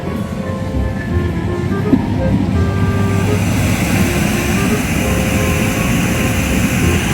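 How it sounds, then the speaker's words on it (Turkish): Air blower in a children's play area roaring steadily, a continuous broadband rush of blown air that sends balls flying upward, loud and unbroken throughout. "Hava üflediği için aşağıdan toplar uçuyor."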